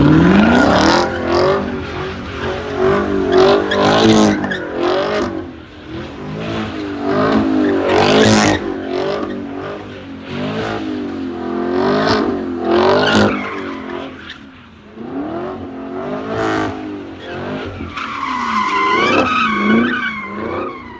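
Loud car engines rev and tires skid and squeal at a car meet, repeated bursts of acceleration and screeching close by throughout.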